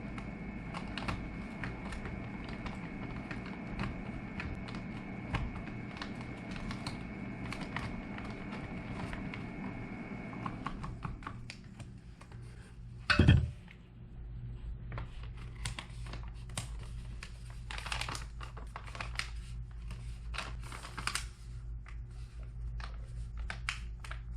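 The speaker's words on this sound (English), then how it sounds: "So what we're going to do is stir up this chili." Texas State Fair chili is stirred and squished inside its foil trail-food pouch, making close, irregular crinkling and rustling over a low hum, with one sharp thump partway through and quieter crinkles afterward.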